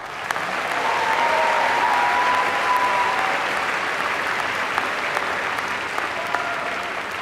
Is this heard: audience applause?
yes